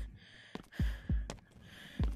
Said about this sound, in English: now there's a heartbeat